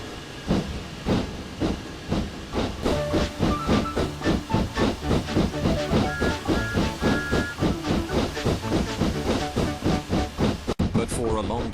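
Thomas the steam engine chuffs along pulling a train in the Railworks game, with rapid, steady hissing exhaust beats, occasional whistle tones and clanking, loud and close throughout.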